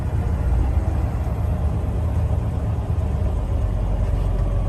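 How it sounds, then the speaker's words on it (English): A 2013 Freightliner Cascadia 125 truck uses its Jake brake, giving a steady, loud low-pitched engine drone heard from inside the cab that holds without a break. "There those Jake brakes in play again."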